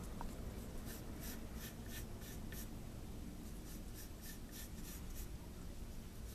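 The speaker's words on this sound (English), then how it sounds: "I'm going to start by drawing this part" Pencil drawing Leonardo da Vinci's flying machine by hand on paper, a faint, close scratching that comes in short regular strokes over a steady background hiss, with no talk.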